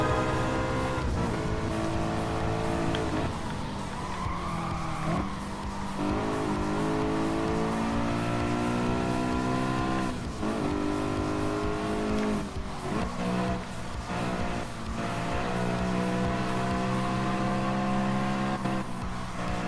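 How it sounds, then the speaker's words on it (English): A BMW M3's V8 engine in the Gran Turismo Sport video game revs hard through repeated gear changes, pitch climbing and dropping, with brief tire squeals along the way. "now I'll let you guys hear the awesome engine, V8 engine from this M3"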